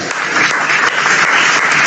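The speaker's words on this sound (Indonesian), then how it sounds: "tepuk tangan" Loud, dense applause from an audience at a religious question-and-answer gathering, a short burst of many hands clapping at once.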